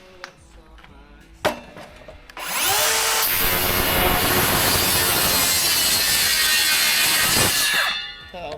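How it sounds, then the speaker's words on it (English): A saw cuts through a wooden fascia board on a hipped roof, starting after a few knocks and then droning loud and steady for about five seconds before stopping. "I'm going to start cutting this fascia up, yeah?"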